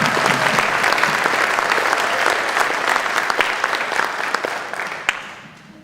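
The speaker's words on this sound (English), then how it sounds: "So we could just give him a quick round of applause." An audience at a school news presentation gives a round of applause, a full, steady wash of clapping that holds strong and then tapers away near the end.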